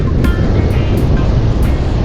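Rough surf in hurricane conditions at a beach in Jamaica, a loud steady wash of breaking waves with hissing spray bursts, close and continuous with no speech.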